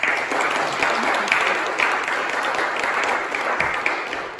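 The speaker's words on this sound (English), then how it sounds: "applause." Steady applause from a church congregation at a family service, dense and continuous throughout before easing slightly at the end, with no talking over it.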